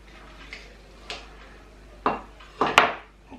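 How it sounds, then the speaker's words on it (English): A knife cuts the stalk end off a Hungarian Hot Wax pepper on a board, giving a few soft cuts followed by a couple of sharp, close taps and clicks near the end, with no voice. "I'm just going to take the end off that stalk"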